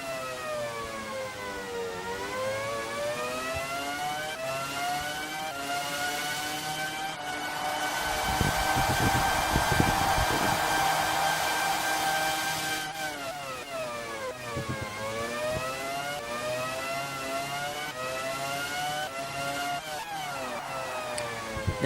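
Formula 1 cars race in F1 Challenge on PlayStation 2 at the Luxembourg Grand Prix, high-pitched engines whining and rising through the gears, with a louder, denser passage midway as more cars bunch together.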